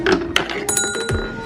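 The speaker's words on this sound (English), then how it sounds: "It rang the bell." A marble launched by a toy marble run strikes a small bell, giving a bright ringing tone with a couple of thunks and rattles close by.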